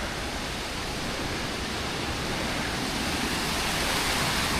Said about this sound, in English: This is called Smiling Creek Falls. Or Happy Creek Falls, sorry. Happy Creek Falls.